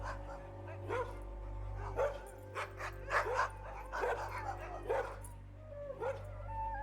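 Dogs in the TV show Hannibal bark and yip repeatedly at a middle distance, in a loose rhythm of short bursts over a low steady hum.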